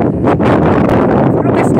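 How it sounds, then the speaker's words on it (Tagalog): Heavy wind buffets the microphone in a dense, roaring rush, gusting steadily throughout with no clear voices, at Wadi Fanja. "Super lakas ng hangin."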